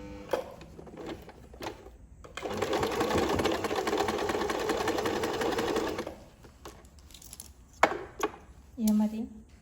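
A sewing machine stitches over the zip of a princess-cut blouse in one steady mechanical run of about four seconds, with quieter handling clicks before and after.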